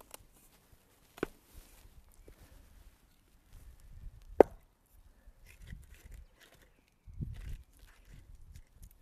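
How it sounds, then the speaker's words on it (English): Firewood being chopped by hand, with a few sharp, isolated axe strikes on wood spaced several seconds apart, separated by quieter shuffling and handling noises close by. "So that's chopping wood."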